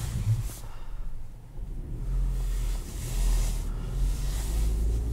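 A 2021 Kia Soul LX with a manual gearbox pulls away in first gear, its engine rumbling low and then rising steadily as the car accelerates, heard from inside the cabin.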